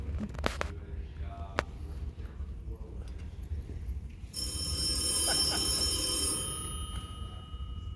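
Telephone ringing indoors in an old radio-style drama, a bright electric bell that sounds faintly early on, then rings out clearly in a sustained burst over a low background hum, with people talking quietly around it.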